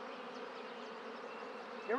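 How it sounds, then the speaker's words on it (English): Swarming drone of newly hatched honeybees on orientation flights in the Stump Garden Bee Yard, an even buzzing hum from many insects, with a brief voice starting right at the end. "I've got a slew of new bees just hatched out. They're all out there doing orientation flights."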